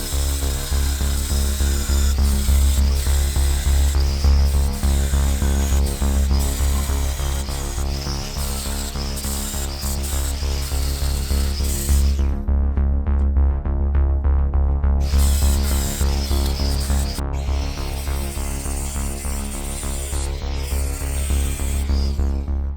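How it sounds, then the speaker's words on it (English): An angle grinder works steadily on metal, stripping paint and surface rust from a vehicle part, producing a loud continuous whine with a strong low hum and a brief easing of the grind midway. "So I've been busy with the grinder, as you just saw, just got all the paint and surface rust off of there"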